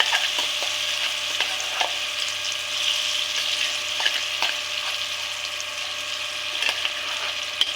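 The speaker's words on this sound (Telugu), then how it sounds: "చట్నీ కూడా ఒక 1 మినిట్ ఫ్రై చేసుకుంటే బాగుంటుంది" Radish chutney fries in a pan, a close, continuous sizzle and crackle with occasional sharper pops and stirring clicks, steady and moderately loud with no talk.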